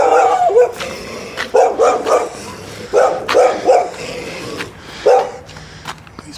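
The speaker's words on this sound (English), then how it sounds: "Dogs. Wanted to eat my brains out." Several dogs bark loudly and close by in uneven bursts, with yips and whimpering between the barks.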